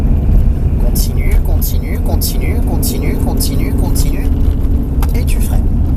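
A car on a driving course accelerates at full throttle, its engine roaring loud and constant up close while an instructor talks over it.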